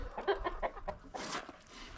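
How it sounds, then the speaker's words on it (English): A rooster in a chicken coop clucks in a series of short, soft calls, then lets out a longer, raspier squawk, faint and nearby. "There's that rooster."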